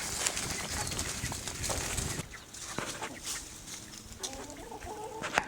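Young pheasants about a year old cluck at feeding time, a busy scatter of soft clucks and calls at close range, with brief pauses between bursts.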